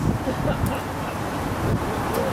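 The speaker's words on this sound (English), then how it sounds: "It's windy." Wind blowing outdoors on a cold day, a steady broadband rush with low rumbling gusts buffeting the microphone throughout, fairly loud and continuous.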